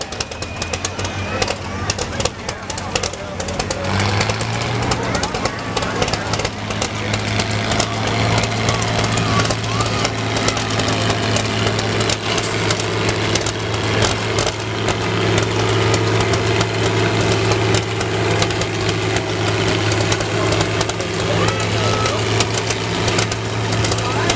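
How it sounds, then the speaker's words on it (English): The engine of a Minneapolis Moline G705 tractor runs at a tractor pull at a threshing show. It gives a steady, loud mid-low drone that holds a constant pitch for the whole stretch. "Got a pilot, a G705 Minneapolis Moline."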